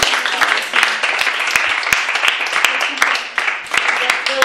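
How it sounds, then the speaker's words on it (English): Group applause in a room after informal interview debriefing sessions, a burst of scattered, fairly close hand claps of moderate loudness, sustained with uneven individual claps standing out. "How about a round of applause for everybody?"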